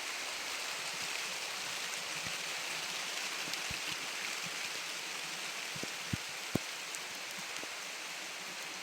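Steady rain hissing down, with scattered louder drips and drops hitting a surface close by; no voices.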